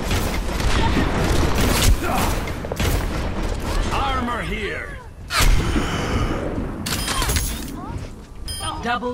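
Rapid gunfire and explosive booms from the video game Overwatch, with Torbjörn's turret and weapons firing in dense, overlapping bursts throughout, loud and continuous, mixed with game voice lines.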